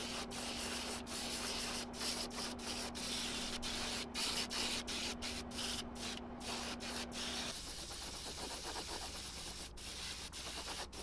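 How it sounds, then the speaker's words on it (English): Steady, close scraping of sandpaper worked over a lead swimbait in a shop, a continuous rough abrasive rasp with rhythmic strokes and a faint hum beneath, shifting slightly in tone partway through. "I'm gonna sand this for a half an hour and see you then."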